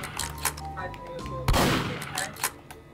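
Video game gunfire rings out in a couple of loud bursts, the sharpest around the midpoint, with fainter shots after it over a steady background of game sound.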